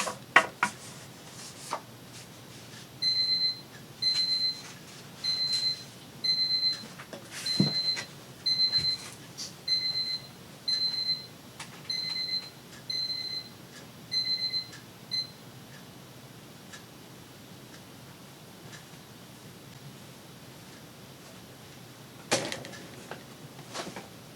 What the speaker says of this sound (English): That was my timer to tell me to go take a walk